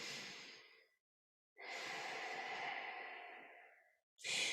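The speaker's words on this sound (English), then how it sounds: "One more belly breath for good luck." A deep belly breath taken while standing tall at the end of a strength workout: a long, airy exhale close to the mic after a short earlier breath, then the start of another.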